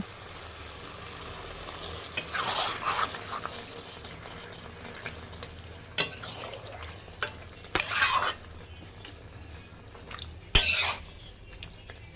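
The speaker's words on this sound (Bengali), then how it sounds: "আমার একটু গ্রেভির দরকার তাই আমি জল দিয়ে দেব সামান্য" Chilli chicken simmering in a pan as a little water goes in for gravy: a quiet continuous sizzle, broken by three short bursts of splashing and hissing as the liquid hits the hot pan.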